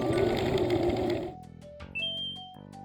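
A sewing machine stitches small plush keychain pieces together, a dense steady whir for just over a second and then quieter, scattered mechanical ticks and short tones.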